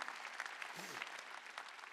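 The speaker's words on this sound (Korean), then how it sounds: "박수 치라 이게야." A congregation clapping during a Korean church sermon, a short burst of dense handclaps heard fairly quietly with a brief voice underneath.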